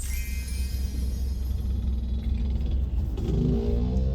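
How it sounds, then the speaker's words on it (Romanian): A motorcycle passes on the road, its engine noise loud at first and then fading as it moves away, leaving a fainter rumble near the end. "Tocmai ți-a trecut o motocicletă."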